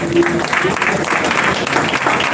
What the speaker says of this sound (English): Applause to God Almighty.